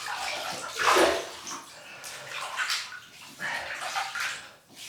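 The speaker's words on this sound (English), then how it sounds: "so I'll just rinse the face again." Water splashes and sloshes in short bursts as a face is rinsed at a basin before a shave, close and fairly quiet.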